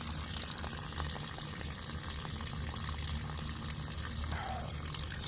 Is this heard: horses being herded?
no